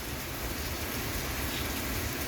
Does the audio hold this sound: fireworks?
no